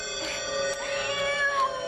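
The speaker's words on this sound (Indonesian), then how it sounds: "Kucing?" A cat meows in a quiet, empty house, a short tonal cry with harmonic bands, close and moderately loud with no talking.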